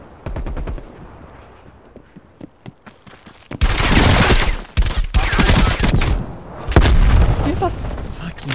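Gunfire in the Call of Duty Black Ops Cold War video game, with sparse single shots first and then loud sustained automatic bursts and booms, close and dense, while players talk over it.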